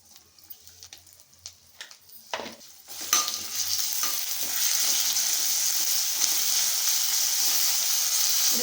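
Ginger garlic paste sizzles in a pan while being stirred, first scattered clinks and scrapes of a spoon, then a loud, steady frying hiss that builds and holds close up.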